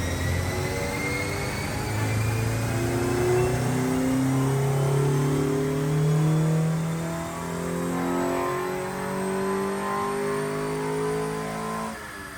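A Honda D15b SOHC VTEC engine on a Crower cam revs hard on a dyno, its note climbing in pitch and holding loud and close before easing back, with no talking.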